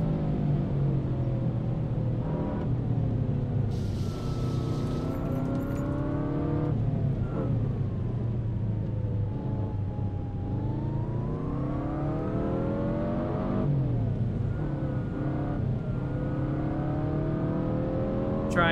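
A 2022 Subaru WRX engine in a racing sim on the Tail of the Dragon at Deals Gap, droning steadily and loudly as revs climb and fall through repeated gear changes and corners, with no speech.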